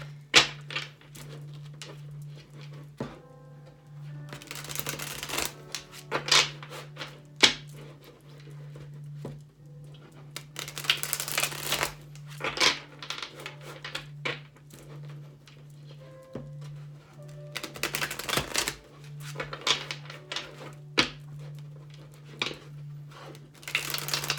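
Repeated bursts of tarot cards being shuffled and riffled, with soft taps and shuffling between them, close by over a steady low hum.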